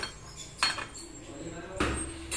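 A metal ladle picked up in a kitchen, giving two quick clinks about a second apart, close and fairly quiet.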